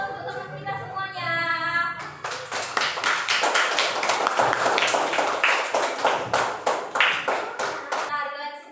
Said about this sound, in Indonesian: kita beri aplaus untuk teman kita semuanya